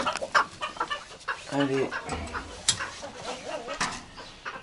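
Rooster and hens clucking and calling around a farmyard poultry run, with short bursts of crowing and clucks, someone speaking briefly amid the birds.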